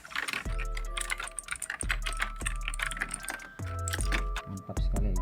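Fast, clacky typing on an Armaggeddon MKA-7C mechanical gaming keyboard, with dense keystrokes and a few heavier thocks from larger keys, close and clear with no talk.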